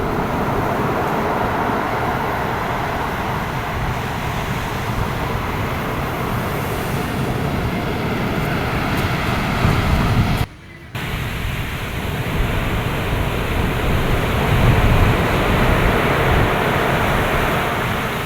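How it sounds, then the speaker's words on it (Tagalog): Sea waves wash onto the beach beside a resort, a steady, loud broadband rush that continues with only a brief dropout partway through. "marinig natin ang lakas-las ng alon sa tabing dagat"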